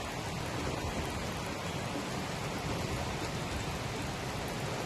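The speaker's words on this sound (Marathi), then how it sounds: "अनेक शहरांमध्ये मुसळधार पावसाच्या सरी कोसळत आहेत।" Heavy monsoon rain falls on Mumbai in a dense, unbroken hiss that stays loud and even throughout.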